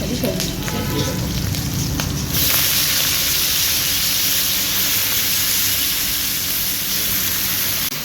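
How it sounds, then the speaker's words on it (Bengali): Mixed vegetables including water spinach, eggplant and ridge gourd fry in a pan with green chilli and five-spice seeds, a steady hissing sizzle that rises sharply after a few seconds and holds, loud and close. "সবজিটা বেশ ভাজা ভাজা করে নেবো"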